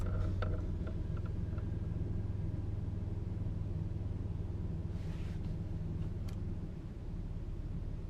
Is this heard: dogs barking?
no